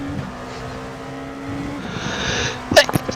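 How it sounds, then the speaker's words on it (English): One sharp sneeze bursts out near the end, close and loud, over the steady drone of an iRacing race car engine at Daytona. "I had to sneeze"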